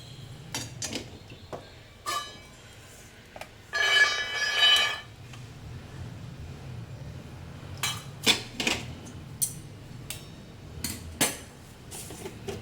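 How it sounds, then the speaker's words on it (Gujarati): Roasted peanuts being moved from a pan onto a plate: scattered metallic clinks and scrapes, a short rattling pour of nuts near the middle, then further sharp taps and clatters close by, with no talking. "તો આપણે એને કાઢી લઈશું એક પ્લેટમાં।"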